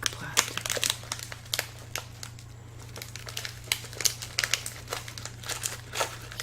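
Sturdy, thick plastic snack packaging crinkles and crackles up close in a steady run of sharp, irregular bursts, with a low constant hum underneath and no talking.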